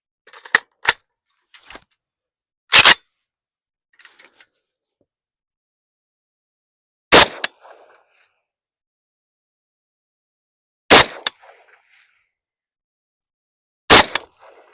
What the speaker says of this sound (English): Last up, 5 rounds of the Russian tracer.